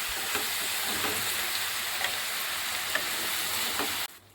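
Banana flower poriyal with grated coconut frying and being stirred in a pan, a dense continuous sizzle with faint stirring scrapes, cutting off abruptly near the end.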